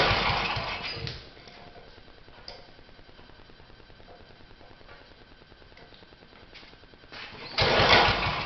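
A Troybilt Horse tiller engine with a rebuilt carburetor starts up, a loud pull-start burst followed by a fainter sputtering, uneven run, then another loud burst near the end.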